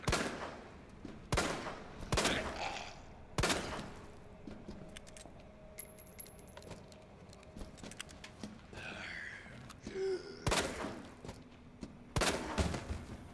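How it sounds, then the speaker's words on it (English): Gunshots ring out in Resident Evil 2 Remake, sharp loud single blasts spaced a second or more apart, with quieter game ambience and mechanical clicks between shots. "How many times do I need to shoot you?"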